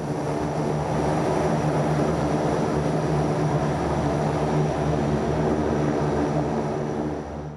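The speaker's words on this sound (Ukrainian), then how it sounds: "«26-ті Ани по черзі злітають у небо." Ukrainian Air Force An-26 military transport aircraft taking off during paratrooper training, a loud, steady turboprop engine roar that holds throughout with no break, close by, with no voices over it.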